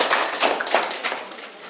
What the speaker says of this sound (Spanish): Vamos a aplaudirnos fuerte porque creo que no nos hemos aplaudido.